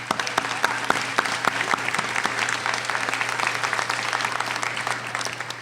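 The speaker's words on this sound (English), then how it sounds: "please give them a round of applause." An audience at a nursing candlelighting ceremony applauds steadily, sharp individual claps standing out over a continuous wash of clapping, moderately distant and sustained throughout.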